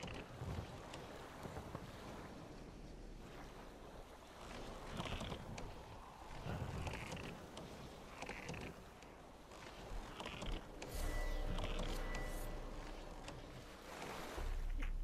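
A boat sails on open water in The Witcher 3: Wild Hunt, with faint lapping waves, soft wind, and creaking wooden mechanisms in a quiet, steady wash, and a louder gust of rushing water near the end.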